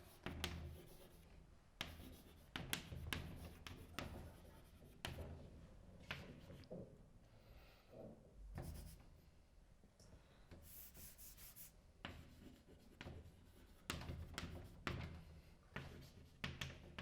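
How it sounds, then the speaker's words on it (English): Chalk or marker writing out an equation on a board, with a run of irregular scratchy strokes, taps and rubs, close but fairly quiet, and no talking. "And I'll write out the recipe here."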